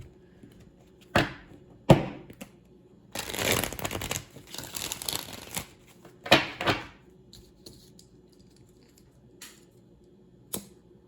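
Tarot cards being shuffled by hand in a quiet room: scattered crisp riffles and taps, with one longer rustling stretch in the middle, and no voices.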